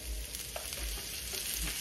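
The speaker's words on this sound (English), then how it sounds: "Put a little oil in here, just a little bit. I'm going to put all these vegetables in here." Vegetables and garlic frying in a little oil in a skillet, giving a steady close sizzle with light stirring scrapes and no talking.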